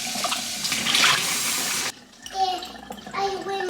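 A kitchen tap gushes loudly as a glass jar is rinsed under it, then cuts off midway, followed by softer clinks and faint voices in the background.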